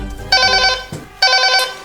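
A two-tone electronic chime rings twice in quick succession, loud and close, like a doorbell sounding at home with no voices over it.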